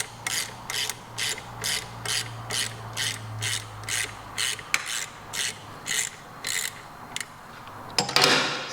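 A ratchet wrench clicks in a steady back-and-forth rhythm of about fifteen strokes while removing the pulley nut on a Vespa GTS 250/300, ending in a louder rattle as the nut comes free.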